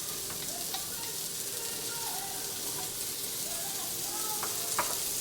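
Shrimp and salmon cook on a grill with a soft, steady sizzle, fairly faint and continuous, with a few light clicks near the end.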